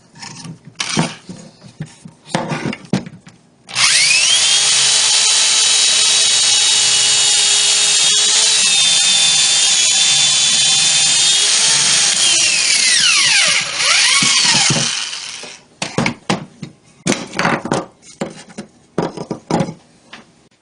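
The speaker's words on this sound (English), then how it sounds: "and I drill the pocket hole." A power drill whines steadily for about eleven seconds, pitch dipping as it bores a pocket hole into 3/4-inch thick wood, with clattering handling noises before and after.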